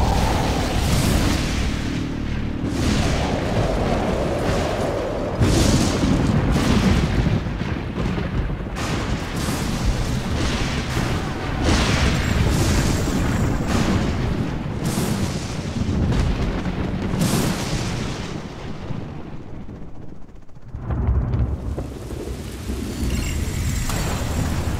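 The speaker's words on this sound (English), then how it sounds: "Nuclear missile launched." A nuclear missile launch and explosion in the video game Command & Conquer: Generals Zero Hour, heard as a long stretch of heavy rumbling booms and crackling blasts, with a brief drop near the end before the roar returns.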